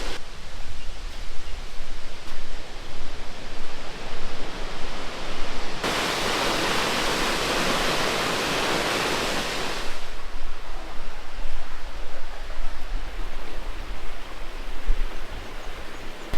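Water rushing along a creek on an outback bush walk, a steady broadband wash that swells loudly for a few seconds in the middle, as if close to a riffle, then eases back to a fainter flow.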